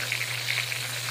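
Eggplant omelette (tortang talong) sizzles steadily in hot oil in a pan, a short close crackle with a low hum underneath.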